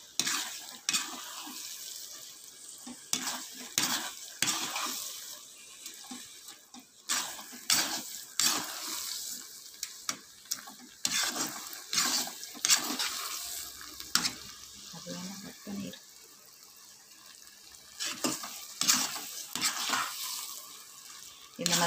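A spoon works Chettinad mochai masala around a hot pan in an irregular run of scraping strokes over a steady oily sizzle, close and moderately loud with no talking.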